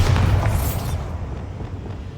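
A Bombarda blasting spell goes off in a Harry Potter video game as a single loud, booming explosion that rumbles deeply and then fades away over about two seconds.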